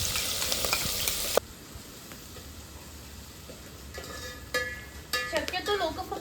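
Green chillies drop into a hot cumin, mustard seed and asafoetida tempering for a Konkani suran leaf bhaji, bringing a quiet crackling sizzle after a short burst of noise, with a few metal clinks and spatters later.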